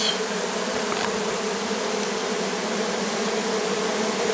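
A honeybee swarm moves into a hive box, giving a steady, dense buzzing hum that stays close and even throughout, with no voices over it.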